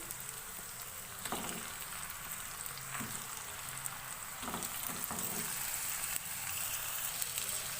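Chicken pieces fry with onions in a hot pan over high flame, a steady close sizzle with occasional stirring clicks and scrapes throughout.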